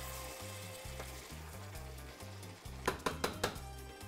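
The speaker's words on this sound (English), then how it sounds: "Tomato, peas goes in, parsley goes in. Let's stir them all together." Chicken stew with tomato, peas and parsley being stirred in a pot, a soft simmering sizzle followed by four quick, distinct utensil scrapes and knocks, no talking.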